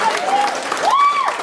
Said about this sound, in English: let's get a big round of applause for all the other comedians you saw tonight